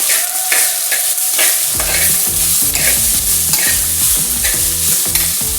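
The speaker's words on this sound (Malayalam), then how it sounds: "ഇനി നമുക്ക് അരിഞ്ഞ് വെച്ചിരിക്കുന്ന വെളുത്തുള്ളി, ഇഞ്ചി, ഉള്ളി, സവാള എല്ലാം കൂടെ ഇട്ട് കൊടുക്കാം. എന്നിട്ട് അതിനെ ഒന്ന് ജസ്റ്റ് ഒന്ന് ഇളക്കാം." Chopped garlic, ginger and onions sizzling in a hot pan for a crab roast, stirred with repeated scraping strokes over continuous loud frying hiss, close up.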